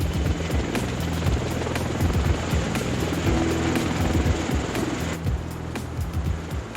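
A V-22 Osprey tiltrotor aircraft flies nearby with a loud, throbbing rotor chop and a steady engine drone, rhythmic low pulses continuing without any talk.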